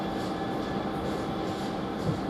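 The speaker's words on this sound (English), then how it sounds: "This is a cement train." A cement freight train passes through Doncaster railway station, its wagons producing a steady low rumble and rhythmic clatter that holds constant throughout, moderately close and without voices.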